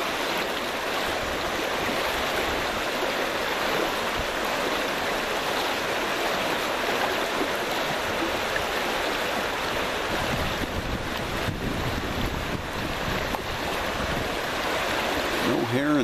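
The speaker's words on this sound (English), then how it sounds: "The river's up a little bit from the rain" The Grand River, running slightly high after rain, flows with a steady, continuous rushing of water, close and even throughout, with faint wind in the background.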